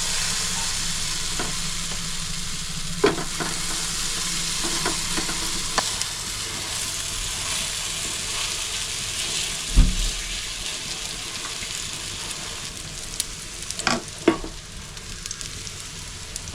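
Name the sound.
mango batter frying in oiled pan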